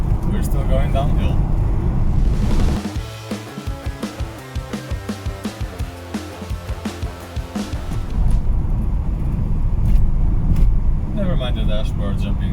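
Alfa Romeo 33 rattling and thumping over a rough, potholed downhill road, with dense knocking and clattering from a broken dashboard between steadier engine and road roar at the start and end.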